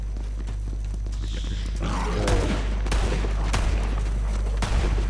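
Gunfire from the video game Borderlands 3, a few sharp shots and bursts over roughly the second half, fairly loud over a steady low game hum.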